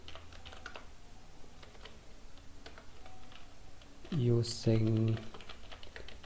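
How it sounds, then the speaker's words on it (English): Light, quick keystrokes on a computer keyboard as C++ code is typed, steady soft clicking near the microphone, with a voice briefly speaking near the end. "I'll just type hash include IO stream"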